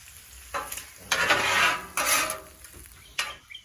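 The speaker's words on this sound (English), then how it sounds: "I'm going to go ahead and throw the onions in the bacon." Onions tossed into hot bacon grease on a flat griddle, a soft sizzle with scraping spatula strokes coming in short bursts, fairly quiet and close.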